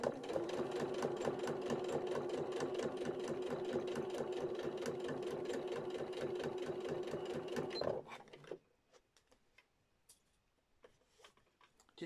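A sewing machine runs steadily at a fast, even stitching rhythm while sewing vinyl project bags, its power surging slightly, then stops abruptly, leaving scattered faint handling clicks.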